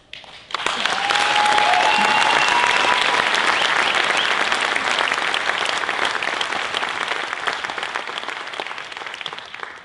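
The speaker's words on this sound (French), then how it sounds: "Je n'ai pas arrêté pour avoir des applaudissements, c'est juste que j'étais ému." Sustained applause from an audience after a speech, dense and loud, holding steady for nearly ten seconds with no voices over it before tapering slightly at the end.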